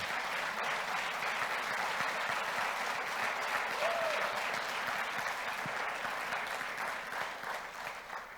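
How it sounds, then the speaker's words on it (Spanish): A church congregation applauds during a Spanish-language service, giving a sustained, steady roar of clapping from many hands that is somewhat distant and even, with faint crowd murmur underneath. "Dale un aplauso al Señor."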